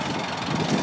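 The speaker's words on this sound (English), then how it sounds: "wanted to show you the old tractor" An old Ford 2000 tractor engine idles steadily nearby, a loud, continuous low rumble with an even chugging texture.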